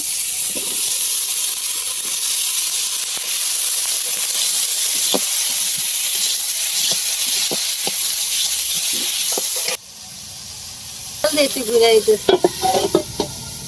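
Ridge gourd drops into a pan of frying spices with turmeric, salt and chilli, making a loud, steady sizzle and hiss, then after a sudden drop comes a burst of scraping stirring and crackling.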